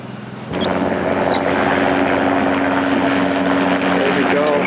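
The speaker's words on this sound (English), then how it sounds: "sounds like a helicopter." A helicopter's rotor thrum starts abruptly and holds loud and steady as it passes nearby over glacier water in Alaska, with a faint voice in the background.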